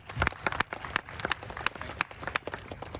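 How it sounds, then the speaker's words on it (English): A small crowd at an Audi TT Cars & Coffee meet claps for car designer Freeman Thomas, the claps scattered, uneven and fairly faint, heard alone without talk. "a round of applause, please"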